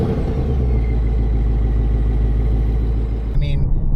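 A Ford Mustang EcoBoost with a non-active dual-tip exhaust idles nearby, giving a steady low burble with a faint rhythmic pulse, plus a brief clatter near the end.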